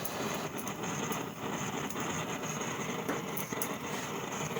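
An old engine from a forge find runs steadily just after starting up, giving a loud, continuous, roaring drone with a few faint ticks and clatters on top.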